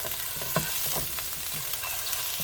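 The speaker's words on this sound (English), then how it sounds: "So I'm just going to break it apart" Moose sausage is broken apart and fried in a pan, a close, steady sizzle broken by several short scraping and tapping strokes from the utensil, with no talking.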